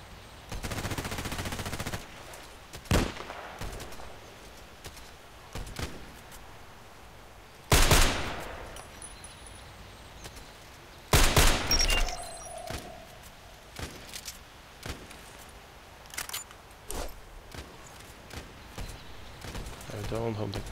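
Gunfire in a sniper-focused shooter video game: several sharp, loud shots and short bursts break through a quieter room background over about twenty seconds, spaced irregularly with a few fainter distant cracks between them.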